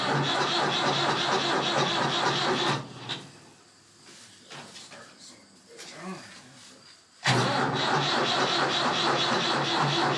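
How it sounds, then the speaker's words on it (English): An aging hay tractor engine that is hard to start cranks and runs loudly and close, cuts out into a quieter stretch of sputtering and rattles, then roars back to full running. "This is what I mean by a hard starting tractor"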